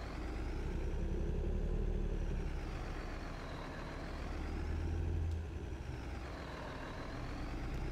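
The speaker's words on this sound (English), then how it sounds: "listen to that baby kick the engine up" A large motorhome engine in Farming Simulator idles with a low, steady rumble, its pitch rising and falling in slow waves as it revs, with no voices.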